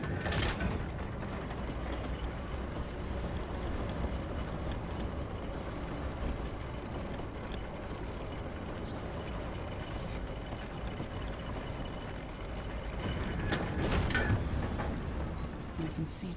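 A clockwork carriage ride in Dishonored 2's Clockwork Mansion rumbles and rattles continuously, with a steady mechanical drone and ratcheting clatter that swells slightly toward the end.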